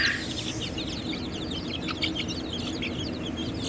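Hybrid chicks and chickens clucking and chirping in a coop, a busy cluster of short, close calls over a steady background hum, with no talking.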